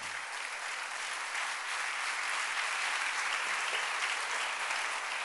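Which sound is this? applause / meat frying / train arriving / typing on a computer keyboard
applause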